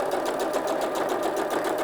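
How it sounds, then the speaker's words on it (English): Sewing machine fitted with a zipper foot stitching along the plastic top edge of a pocket, a steady close whirring hum of the running motor with no pauses or voices. "I've got my zipper foot on my sewing machine, so I'm going to run across that top edge"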